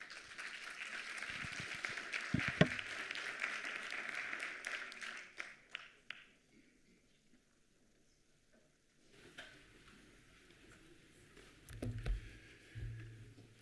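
Enthusiastic audience applause welcomes speakers at an international conference on AI and the future of work, a dense round of clapping that fades out, leaving near silence before a few scattered claps return.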